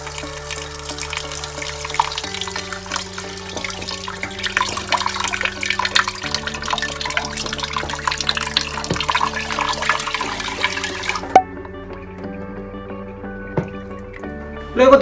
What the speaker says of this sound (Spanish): y agua suficientemente para que el arroz quede sumergido